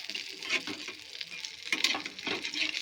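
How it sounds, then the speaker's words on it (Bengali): Lote fish wrapped in bottle gourd leaf frying in a pan, a soft crackling sizzle with intermittent stirring and scraping bursts, fairly quiet and close, with no voices. "দু পিট সমান ভাজা হয়েছে তো লোটে মাছটা ভালোভাবেই সেদ্ধ হয়ে গেছে"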